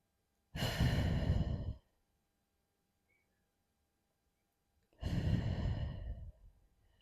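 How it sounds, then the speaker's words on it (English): Two long, deep breaths taken during a beginner Pilates exercise with no equipment, each a drawn-out airy sigh lasting over a second, separated by a few seconds of quiet; close and clear with no talking. "a few deep breaths here in this position"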